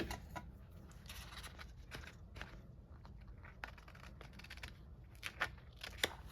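Scissors snipping through paper while making a paper flower for a craft project, soft irregular snips over a low background hum, ending in a few sharper cuts.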